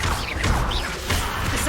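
A Confringo spell cast in the Hogwarts Legacy video game bursts out as a loud, dense crackling whoosh and smash that fills the short moment without a break.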